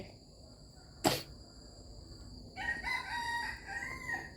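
A rooster crows once in a long drawn-out call over a steady background of insects chirping outdoors, following a single sharp knock; no talking.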